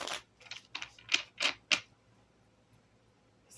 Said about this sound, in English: Going to give these a quick shuffle as well,